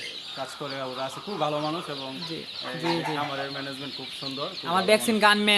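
Egyptian Fayoumi chickens on a farm in Madhabpur, Habiganj, cluck loudly and close in repeated drawn-out calls that overlap, with faint voices behind them.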